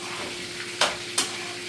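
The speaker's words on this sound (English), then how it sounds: "This is my vegetables stir frying into the pan for a little bit" Vegetables stir fry in a hot pan on a stovetop burner, a steady close sizzle with two brief louder bursts as the food is stirred or tossed.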